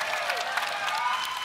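Brief burst of applause from a small group during a live-streamed spelling game, a steady patter of clapping filling the moment.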